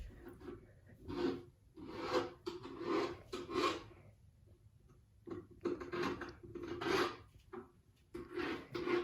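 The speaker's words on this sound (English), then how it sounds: "So I'm just going to file it off, it just needs a bit of refining." A metal file works a join in textured metal jewellery, giving rhythmic rasping strokes in short bursts, about a dozen clear passes with brief pauses between them, close and fairly quiet.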